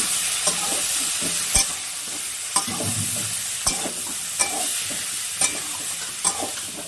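Turmeric and chilli spice paste fries in a pan for a bacha fish curry with potato and brinjal. A steady loud sizzle runs throughout, punctuated by sharp, regular spatula knocks on the pan.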